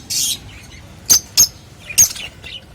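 A pair of Lutino pet birds, likely lovebirds, give a few short, sharp chirps in an irregular cluster, close and clear against a quiet background.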